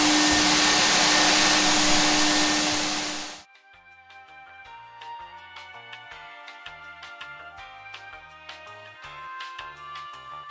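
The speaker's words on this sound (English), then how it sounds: "Quick vacuum." A loud, steady vacuum cleaner whine with broadband roar runs for a few seconds inside a Tesla Model S, then cuts off abruptly, leaving quieter tonal music-like sounds.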